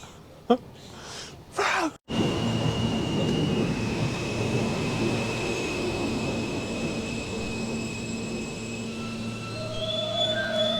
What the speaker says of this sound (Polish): I oto pociąg do centrum największego miasta w Stanach Zjednoczonych.